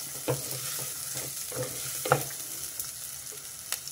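Broad bean seeds fry in a shallow layer of oil, giving a quiet, steady sizzle with a few soft stirring clicks from a spoon against the pan.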